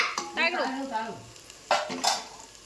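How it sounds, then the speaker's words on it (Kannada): Onions and green chillies frying in a pan, with a few short scraping stirs and a faint background sizzle, close by; no one speaks. "ಈಗ ನೋಡ್ರಿ ಉಳ್ಳಾಗಡ್ಡಿ ಮೆಣಸಿನ್ಕಾಯಿ ನೋಡ್ರಿ ಎಲ್ಲ ಫ್ರೈ ಆಗ್ಯಾವ"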